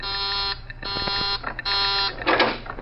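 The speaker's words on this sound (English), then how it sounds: "That's the warning buzzer. It means that someone's coming out." A loud, harsh electronic buzzer sounds in three long blasts separated by short gaps, with some rattling noise underneath.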